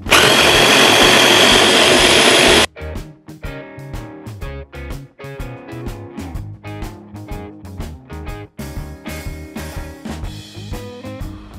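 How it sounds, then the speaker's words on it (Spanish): A powerful blender whirs loudly and steadily as it purees guacamole ingredients, then cuts off abruptly after a few seconds. "Y echarlos a una batidora potente"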